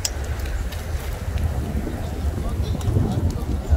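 Wind buffeting a microphone outdoors near a road, a loud, steady low rumble with gusts, under someone speaking.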